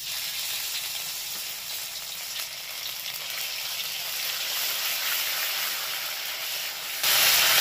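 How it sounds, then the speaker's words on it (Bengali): Ground ginger and green chilli paste frying in a pan, a loud continuous hiss and sizzle that holds steady throughout and swells slightly at the very end, close up with no speech. "এবার যে আদা আর কাঁচা লঙ্কাটা বেটে রেখেছিলাম ওটাকে দিয়ে দেবো"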